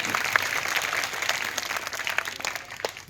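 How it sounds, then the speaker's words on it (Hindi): Applause for a girl called up by a stage magician at a girls' gurukul, a brief burst of scattered clapping from the audience that stays steady and fairly close. "एक बार जोरदार तालियां हो जाए"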